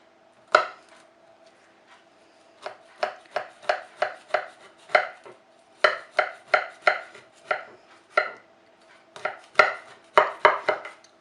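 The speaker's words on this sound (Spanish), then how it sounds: "Lo vamos a cortar así en forma de rombito para que quede bonito." A knife cuts baklava into diamond shapes, giving a series of crisp, close chopping taps in uneven clusters, each cut striking through the layered pastry to the pan beneath, with quiet pauses between.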